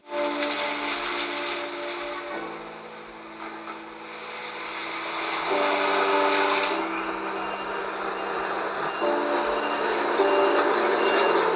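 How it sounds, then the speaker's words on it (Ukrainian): A tram in Lviv rumbles past with a steady mechanical hum and shifting motor tones, wheels grinding along rails, loud and close throughout. "А ще Львів це звуки трамваїв."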